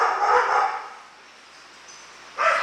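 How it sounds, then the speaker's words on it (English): Dogs play at a dog daycare with a big double garage door open to an outdoor play area, giving loud bursts of barking and yipping at the start and end with a quieter gap between. "the dogs are out there having a great time"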